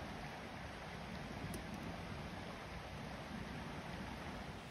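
Steady broadband rush of stream water flowing past a forest campsite in Allegheny National Forest, continuous and even with no pauses, faint and fairly distant, with no voices over it.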